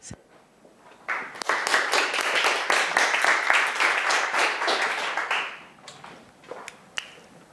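An audience applauds to welcome a speaker to the stage at a university English monologue contest. Dense, close clapping swells up quickly, holds for about four seconds, then thins out to a few scattered claps.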